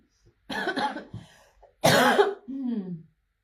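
Two harsh coughs from a nearby woman, separated by a short pause, the second followed by a strained, voiced exhale.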